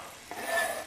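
Onion dropped into two tablespoons of hot canola oil, a soft hiss swelling into a brief close sizzle with light stirring, short and fairly quiet, no voices.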